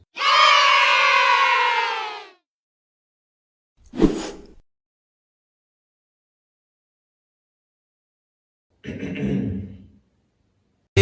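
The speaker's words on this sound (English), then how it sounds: "Please a round of applause for Nigerians" An audience bursts into a loud roar of cheering and applause, followed after a pause by a short shout and another brief swell of crowd noise, with silence in between.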